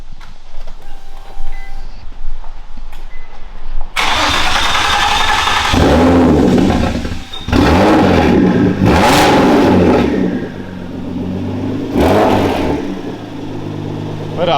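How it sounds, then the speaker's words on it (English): A drift car with worn turbos that need a rebuild cranks and fires up after a quiet start. It then revs hard several times in loud, close bursts that drop back toward idle between pulls. "start it up real quick"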